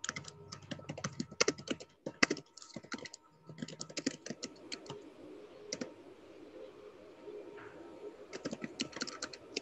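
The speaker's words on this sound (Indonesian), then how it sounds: "Ada suara ketik ini, siapa suara yang ngetik nih?" Rapid clicking of a computer keyboard during an online law lecture, bursts of keystrokes with short pauses, fairly close and quiet, with no talking over it.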